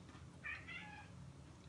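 A cat meows once or twice, a short moderately loud call standing out over a quiet room hum, with no talking during it.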